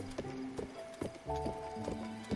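A horse clip-clops along in The Legend of Zelda: Breath of the Wild, with rhythmic hoofbeats about twice a second over soft tonal game background sounds.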